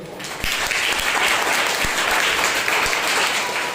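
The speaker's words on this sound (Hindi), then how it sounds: "जोरदार ताली बजाइए।" An audience at a Sunday morning church service claps steadily and loudly, a dense wash of applause that keeps going without a break.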